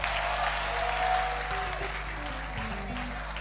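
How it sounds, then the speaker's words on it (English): A church congregation claps for the Lord during an evangelical service, a sustained wash of applause that is loudest at the start and slowly fades under a steady low hum. "Sit and give the Lord a clap."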